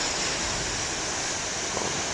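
Big ocean waves breaking on a shore come through as a steady, broad wash of surf noise filling the whole stretch, with no distinct individual crash standing out.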